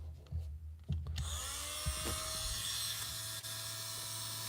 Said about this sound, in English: I'm going to drill first,